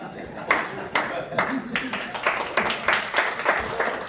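An audience claps in distinct, rhythmic bursts after a talk about an AI image editor, sharp repeated hand claps rising and falling while a speaker talks over them.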